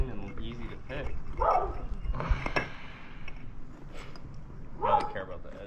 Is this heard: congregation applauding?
no